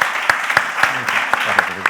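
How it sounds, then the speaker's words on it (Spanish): A small audience claps for a guest, with a few distinct, sharp hand claps spaced apart and a voice speaking between them. "Fuerte aplauso también para él."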